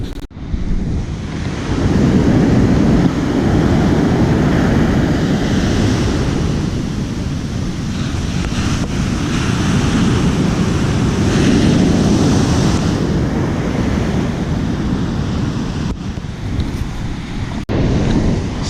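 Loud, continuous roar of ocean surf breaking against a rocky shore at a surf perch fishing spot, with heavy wind buffeting the microphone and a few swells rising and falling.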